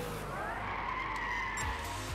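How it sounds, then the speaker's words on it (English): A heavy car drifting in Gran Turismo 6 during a GT All-Stars Cup race, tires squealing in a sustained, wavering screech over a steady engine roar, loud and close. "That is such a heavy car to try and drift."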